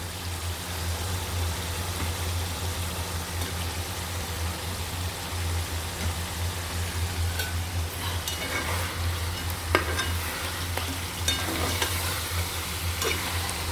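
Snakehead fish frying in a pan with a steady sizzling hiss over a low hum, a few sharp crackles and spatters toward the end.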